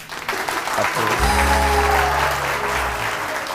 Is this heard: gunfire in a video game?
no